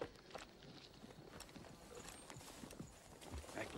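Horse hooves clip-clop in a Western film, a steady string of faint, hollow knocks at a walking pace under quiet outdoor background noise.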